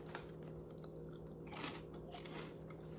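Crunchy Yum Yum vegetable chips chewed close to the mic, with repeated crisp bites and crunching over a low background hum.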